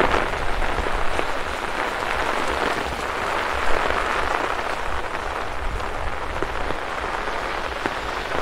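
Steady heavy rain pours during a storm over a city street, a dense, even hiss of downpour on surfaces that holds at the same level throughout with no pauses.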